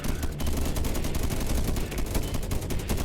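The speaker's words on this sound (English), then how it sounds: "Those new turrets are kind of inaccurate." Rapid turret gunfire in a Rimworld-style colony game plays as a dense, continuous chatter of loud overlapping shots throughout.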